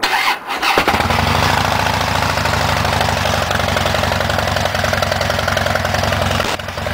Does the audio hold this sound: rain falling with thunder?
no